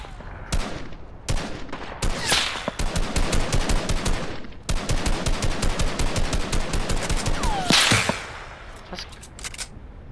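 Rapid automatic gunfire from the Fortnite video game, loud and near, firing in long repeated bursts with brief gaps between volleys and no speech over the shots.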